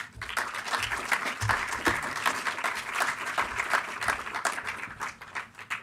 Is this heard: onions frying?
no